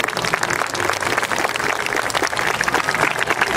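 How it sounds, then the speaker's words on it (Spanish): Strong, dense applause from a theatre audience at a closing-night event, steady loud clapping filling the whole stretch with no pause. "Pues fuerte el aplauso"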